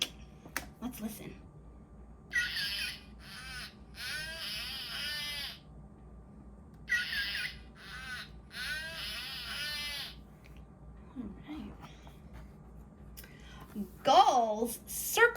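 High squeaking and whistling calls of a black whale with white patches, several drawn-out rising and wavering cries in separate bursts, fairly clear against quiet, with a brief voice near the start.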